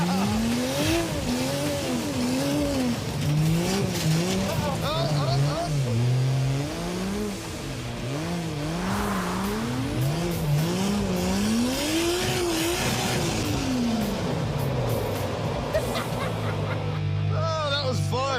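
A Dodge Charger drives hard with a revving, rising and falling engine and squealing tires, loud and continuous throughout.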